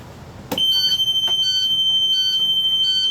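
Emergency exit door alarm on a school bus sounds abruptly after a brief quiet, a loud, steady, rapidly pulsing high-pitched electronic beeping that continues without pause.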